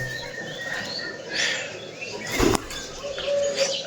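Pigeons in a town square coo softly in the background, and a sharp burst of wing flapping stands out partway through.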